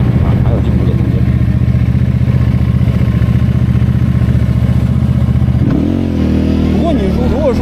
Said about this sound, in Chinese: 这个发动机的震动，说实话，还有进步的空间啊